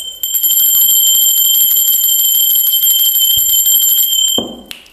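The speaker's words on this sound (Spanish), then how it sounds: "La campana es una energía de alta vibración que lo que hace es neutralizar las energías que no corresponde que estén en este lugar" A small cleansing bell rings continuously for several seconds during a tarot reading setup, a bright, sustained metallic tone with steady shimmering overtones, loud and close, then stops abruptly with a brief handling clunk.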